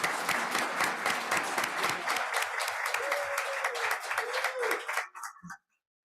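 Board meeting audience applauding the 2023 Rail Rodeo winners, a steady moderate round of clapping with a brief voice under it, thinning out to a few last claps before stopping abruptly into silence.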